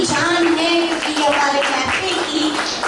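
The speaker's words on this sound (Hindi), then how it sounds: "तो जरा तालियों के साथ स्वागत करें इनका" An audience at a Teachers' Day programme applauds to welcome guests, a dense, continuous wash of clapping that stays loud throughout, with a faint tonal voice or music underneath.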